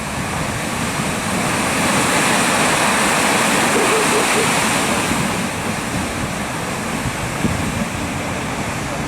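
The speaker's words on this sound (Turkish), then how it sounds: "Dalgaları, suyun köpükleri, köpük köpük sular" Düden waterfall on the old Lara road in Antalya pouring into the sea, a loud continuous roar of falling water, crashing waves and foam with no pauses.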